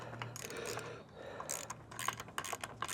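A ratchet clicks in quick, uneven bursts while a fastener is tightened from underneath on the frame of a Cyclone Rack lawn vacuum, close and fairly quiet.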